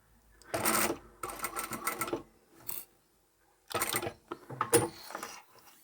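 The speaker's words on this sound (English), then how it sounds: "Sew across that." Sewing machine stitching across a D-ring strap on a fabric bookmark, running in several short bursts of close mechanical whirring separated by pauses.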